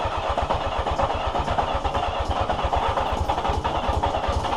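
A 1982 Yamaha XJ650 motorcycle engine runs steadily right after its first start, a close, even, fast-pulsing exhaust throb with mechanical clatter on top, with no voices.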